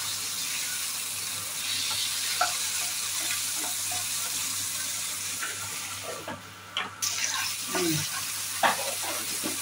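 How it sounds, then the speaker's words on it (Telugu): Tomato pieces frying in a pan for a broccoli fry, a steady loud sizzle with occasional scraping and clinks of a utensil, heard up close. "ఇవి వేగిన తర్వాత అందులోకి టమాటా ముక్కలు వేసుకొని కాసేపు వేయించుకోవాలి."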